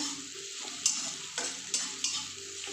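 Grated ginger frying in a pan as it is stirred: a soft, continuous hiss of hot oil with a handful of brief scraping strokes spaced a second or so apart, close and without speech.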